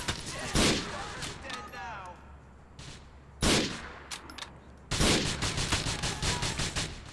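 Gunfire in Grand Theft Auto IV: a sharp burst of shots opens, another blast follows midway, then rapid repeated shots near the end, with someone talking over the action.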